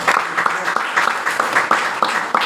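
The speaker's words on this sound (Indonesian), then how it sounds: "Wah, beri aplaus dulu semua." An audience at a sharing session gives a short round of applause for new members, a brisk, fairly close clatter of many hands with some voices mixed in.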